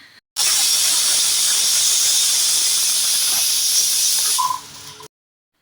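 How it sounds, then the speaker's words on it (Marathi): A pressure cooker steaming alocasia leaf rolls lets out one loud, sustained hissing whistle close by for about four seconds, then it cuts off and a faint tone trails away. "हे मी कुकरमध्ये उकडायला ठेवणार आहे आणि ह्याला साधारण दोन ते तीन शिट्ट्या मी करून घेणार आहे"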